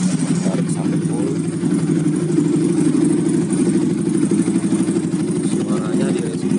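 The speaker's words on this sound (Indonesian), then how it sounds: "Suaranya di racing mode lebih ngepas ya bro, lebih padat." Yamaha R15 VVA with a Tridente aftermarket exhaust in racing mode, holding a dense, steady close engine drone at elevated idle without distinct rev peaks.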